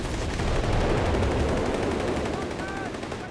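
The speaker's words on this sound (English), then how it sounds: "Got some big explosions out of that." Company of Heroes 3 gameplay: rapid bursts of machine-gun fire rattle over deep booming explosions, a dense, loud barrage of gunfire and blasts throughout.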